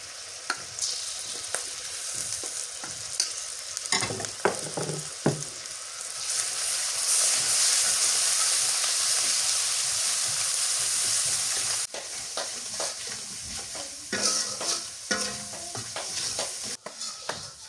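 Ginger, garlic, cumin and onion paste frying in a pan, a dense close sizzle that swells loudly midway with intermittent stirring scrapes and clatter of a spoon against the pan.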